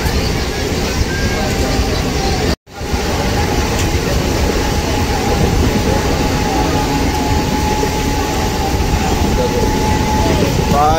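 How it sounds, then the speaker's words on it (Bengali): A passenger train on the way to Mysore gives a loud, steady rumble with a rhythmic clatter from inside the carriage, broken once by a brief dropout in the sound. "এই যে আমরা ট্রেনে করে যাচ্ছি মহীশূর"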